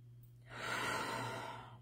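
Someone takes a single slow, deep inhalation through the nose after rubbing anointing oil between the fingers, a soft close breath rising and fading in the quiet.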